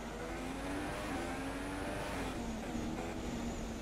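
A race car engine holding a steady, moderate drone on a slow out lap in the F1 2016 video game, with a faint pitch that shifts a little and no sharp revs, heard alone with no talk.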